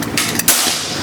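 A single loud, sharp crack from a Predator PCP air rifle firing at about 2000 PSI, heard up close with a brief burst of noise, followed by a short fading tail.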